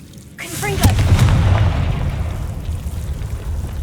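A Confringo spell blasts in Hogwarts Legacy with a loud booming burst and a crackling fiery tail that rumbles on and slowly fades over a few seconds.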